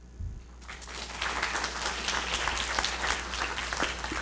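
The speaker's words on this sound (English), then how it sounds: "That give him a great applause" Audience applause at a science camp lecture hall, a brief low thump then a swell of dense clapping that holds steady and loud to the end.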